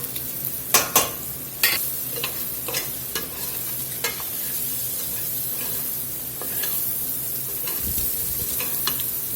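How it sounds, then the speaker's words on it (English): Turkey sausage sizzling and frying in blackening spices in a pot, a steady crackle broken by occasional sharp pops and stirring clicks, with no voices. "we're just going to let this sausage cook here in those spices until it converts and blackens up"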